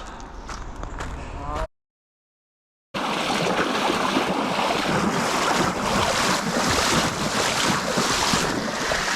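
Waves washing around someone wading through water during a trail run, with strong wind buffeting the microphone; a steady, loud rush of surf and splashing that cuts out briefly to silence, then resumes.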